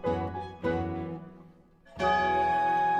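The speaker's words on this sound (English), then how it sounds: "When the church bells chimed 6 o'clock" Church bells strike six o'clock in three distinct rings, each resonant chime hanging and slowly decaying before the next, loud and close with no voices.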